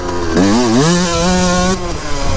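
A Yamaha YZ125 two-stroke dirt bike screams close by, its revs climbing and dipping before one quick upshift in mid-air, a short, loud, buzzy burst.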